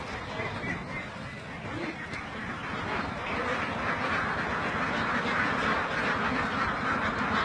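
A large flock of egg-laying ducks, about 2,600 birds on a duck farm, quacks continuously in a dense, overlapping chorus, loud and close, with no pauses.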